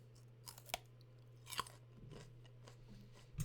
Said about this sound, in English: You guys gotta listen to me munching carrots.